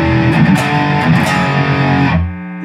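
An electric guitar played through a DBZ Bolero's single coil pickup with distortion rings out in sustained, loud chords, then decays to a steady hum at the end.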